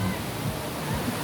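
A small waterfall on Nong Khai mountain gives a steady, close rush of falling water, a continuous broadband wash with no clear breaks.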